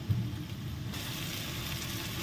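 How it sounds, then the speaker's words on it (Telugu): Tomatoes fry in a pan for coconut pulao, a soft steady sizzle and crackle of oil heard up close with no talking. "సో కొంచెం సేపు ఈ టమాటా మొత్తం కుక్ అయ్యే వరకు కొంచెం ఫ్రై చేసుకోవాలి."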